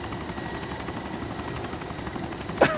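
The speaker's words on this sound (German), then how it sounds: "Da links ist ein Heli, links." Steady, continuous rotor drone of a helicopter in the video game DayZ, holding at an even level throughout with a short sharper sound near the end.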